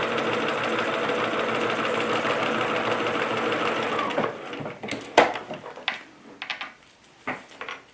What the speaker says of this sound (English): So I just kind of hold it like that and sew straight off.